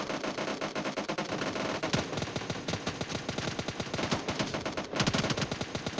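Rapid automatic gunfire from a powerful weapon in the video game PUBG rattles out in dense, loud bursts, with a brief pause near the end before firing resumes.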